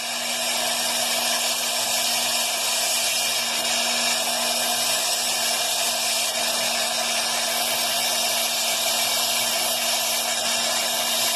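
A rotary carving tool grinds Deer Creek fire agate at medium speed, around 6,000 RPM, giving a steady, close, unbroken high whine that holds level throughout with no talking.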